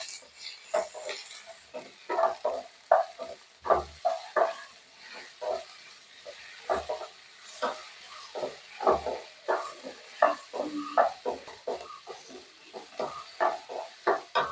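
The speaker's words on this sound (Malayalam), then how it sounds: "ഇതെല്ലാം കൂടെ നന്നായിട്ടൊന്ന് വഴറ്റിയെടുക്കാം." Potatoes, tomato and green chillies are sautéed in a pan for a soya curry. A spatula stirs and scrapes in a steady, repeated rhythm of short close strokes with a faint sizzle beneath.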